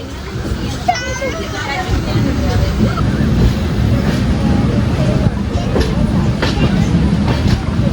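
The Venad Express rumbles and rattles as it starts moving near Ernakulam, heard from a second sitting coach, wheels clacking over a steady low roar, with people chattering nearby throughout.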